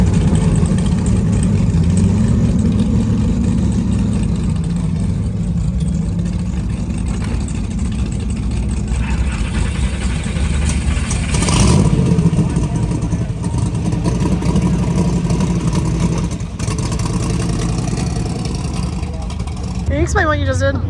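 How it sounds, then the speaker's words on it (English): Supercharged Ford F-150 pickup truck idling and revving at a drag racing event, a steady loud low engine drone with a brief surge midway and people talking over it. "that'll bring up Mr. Sam, the Sunshine F-150 supercharged pickup truck"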